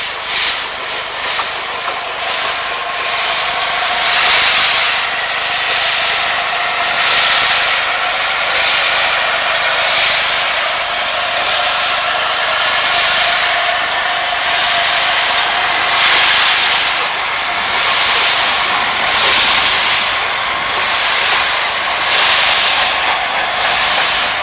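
Steam locomotive Blue Peter departing on a special to Holyhead in heavy, wet weather, giving a steady loud rumbling roar with rhythmic exhaust surges throughout, close and continuous with no talk.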